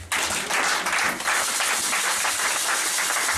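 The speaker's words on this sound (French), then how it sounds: "Acclame Jésus." A church congregation applauding in acclaim of Jesus, dense, steady clapping from many hands filling the room without pause.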